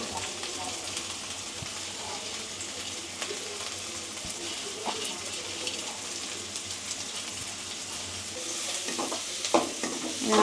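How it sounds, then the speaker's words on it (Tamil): Onion, fennel, cumin and pepper sautéed in a pan for fish kulambu, a continuous close sizzle with repeated spoon scrapes and stirring, a few brief clatters near the end. "நல்லா வதக்கிக்கலாம்."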